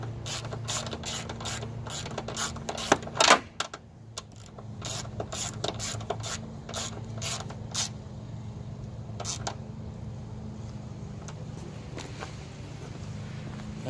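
A ratchet wrench tightens the bolt on a car battery terminal while the battery is changed in a Grand Prix, giving quick, close clicking bursts with short pauses and a faint background hum.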